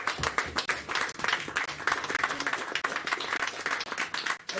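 A church congregation applauds, a sustained, fairly quiet wash of clapping hands with irregular peaks, continuing alone without speech.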